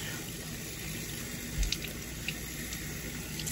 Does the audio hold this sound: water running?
yes